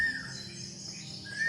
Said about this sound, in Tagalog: Baka ito yung ibon na tingguay siguro to.